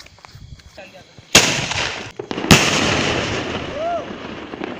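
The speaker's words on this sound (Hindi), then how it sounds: "तो अब स्काई शॉट जलाते हैं दोनों एक साथ" Two sharp, loud sky shot firework bangs about a second apart during Diwali, each followed by a crackling, hissing burst, with a faint voice at the start and end.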